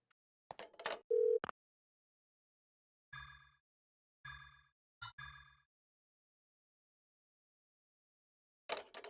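Telephone sounds from the video game Parasite Eve 2: a short beep, then a steady tone, then a few repeated electronic rings or tones separated by silence, heard alone and clear.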